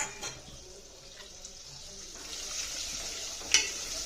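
Pan-roasted chutney goes into a pan for chicken rassa, giving a quiet, steady sizzle with light stirring scrapes and one brief sharp clink near the end.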